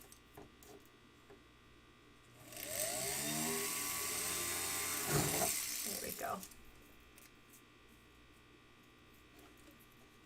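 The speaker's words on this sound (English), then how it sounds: "I'm just going to sort of drill through from that back side too" A drill bores through the back side of a part with cutting lube, a loud high whirring burst lasting a few seconds amid quieter workshop hum, with a brief spoken word just before.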